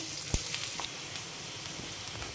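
Cut onions and cumin seeds frying in a pan give a soft, steady sizzle with a sharp crackle near the start, quiet and close, with no voices.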